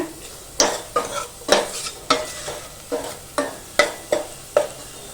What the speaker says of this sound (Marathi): आता आपण यात ना हळद टाकून घेऊया हळद पण ना अशी तेलावरती परतून घेऊया